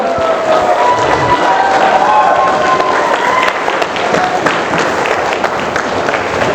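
An audience applauds at a motivational talk, a loud, continuous wash of clapping and crowd noise with a few cheers, as a voice speaks over it.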